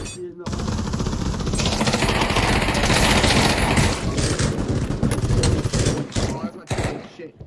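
Pistol fire in the Pavlov VR shooter, a dense, loud burst of rapid shots filling several seconds, then tapering into scattered cracks.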